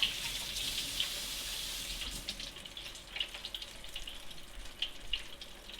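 Tap water runs steadily into a sink while a slimy toadfish fillet is rinsed under it. The splashy hiss carries a few brief louder spatters, close by, with no voices.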